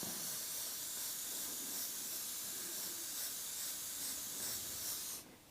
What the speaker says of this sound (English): just hold the shield and spray sort of half on the shield, half off